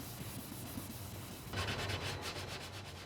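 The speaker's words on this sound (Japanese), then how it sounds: "紙やすりを使って古くなった漆をこすり落としたり、木の凹凸を平坦にします" Sandpaper scrubs old lacquer off a wooden piece during Kyoto lacquerware restoration prep, a steady close abrasive rasping that grows louder and more rhythmic halfway through, with repeated back-and-forth strokes.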